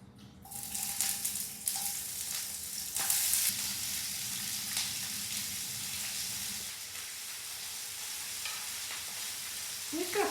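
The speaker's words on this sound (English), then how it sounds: "I have a skillet on my stove heating up, and I've got some oil here already." Fish sizzles and crackles steadily in hot oil in a skillet, a bright continuous frying hiss with occasional stirring scrapes.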